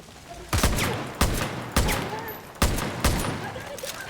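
Bursts of gunfire from the video game Far Cry: New Dawn, five or six sharp loud shots spaced irregularly, each with a short echoing tail, close and prominent.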